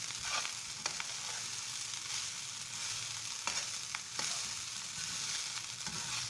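Mushroom garlic fried rice fries in a pan with a steady hiss, while a spatula stirs and scrapes through it in irregular clacks, heard close with no talking.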